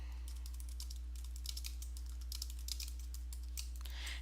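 Computer keyboard typing runs throughout as a steady stream of light, quick key clicks at moderate distance, alone over a low electrical hum.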